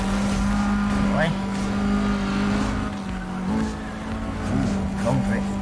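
A car in Need for Speed Undercover drifts in a long, continuous slide. A sustained engine drone wavers up and down, tyre squeal rises on top of it, and a player talks over the game sound throughout.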